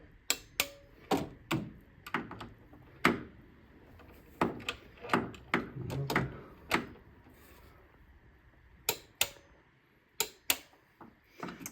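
Torque wrench on the cam gears of a Mini Cooper S N14 engine during a timing chain job, giving sharp close clicks in quick clusters separated by quieter ratcheting and pauses.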